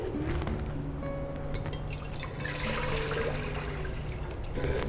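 Water and evaporated milk pour into a bowl for corn pudding, a quiet continuous trickle and splash with some faint drips against a steady kitchen background hum.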